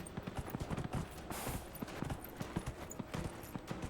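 Horse hooves clip-clop steadily in a video game, a fast, even rhythm of hoof strikes that runs throughout at moderate loudness.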